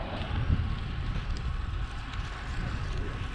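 A headwind buffets the microphone during a warm fall bike ride on a greenway, a continuous low rumbling roar with gusty swells and no one speaking.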